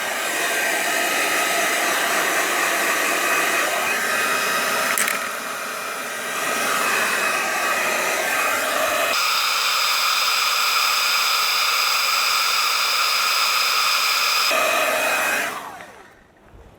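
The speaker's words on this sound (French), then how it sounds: "Donc à l'aide d'un décapeur thermique tout simplement qui va permettre de chauffer la pâte thermique et de la faire décoller un tout petit peu" Heat gun at full power blowing hot air onto thermal paste on a motherboard, a loud, steady airy roar that dips briefly and shifts tone midway before cutting off at the end.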